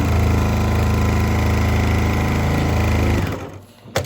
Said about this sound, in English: So I'll just go to the other end and hold these parts together and just stitch.